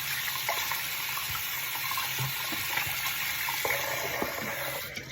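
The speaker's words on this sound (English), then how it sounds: "Just give me a second to wash my hands." Water from a running tap pours steadily into a sink while hands are washed under it, a constant close splashing rush with faint irregular knocks, and nobody speaks.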